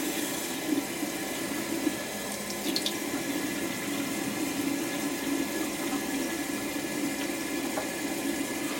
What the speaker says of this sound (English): So we're going to get our makeup brush wet from the tap and circle that on those wash parts